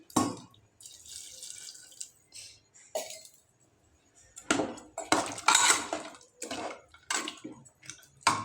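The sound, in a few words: hot water being poured into mutton curry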